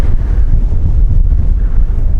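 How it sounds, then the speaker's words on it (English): Strong wind buffets the microphone at a dinosaur dig site in Wyoming, a loud continuous low roar that rises and falls in gusts, with no one talking. "Wyoming can be a very windy state."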